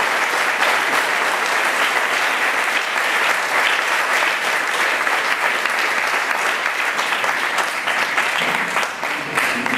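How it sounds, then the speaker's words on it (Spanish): A church congregation applauds with dense, loud, sustained clapping that fills the whole moment at an even level before easing slightly at the very end. "Démosle un aplauso, Señor."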